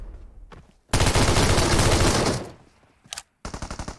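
Close, loud automatic gunfire in PUBG Mobile rattles in a sustained burst of about one and a half seconds, then fades, followed by a short shot and another rapid burst.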